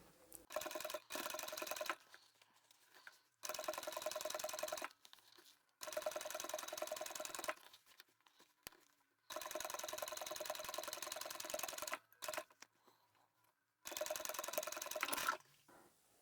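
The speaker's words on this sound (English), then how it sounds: "you really want to try and sew as straight as you can." A sewing machine top-stitches a vinyl bag in several bursts of steady, close whirring, separated by short pauses and fabric handling sounds.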